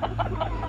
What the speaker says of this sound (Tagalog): At ngayon po ipapakita ko din yung ating mga manok.